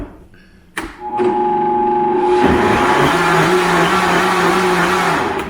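A Vitamix blender mixes Keto Chow with butter: a thunk, then a loud, steady motor whir that runs close and unbroken to the end.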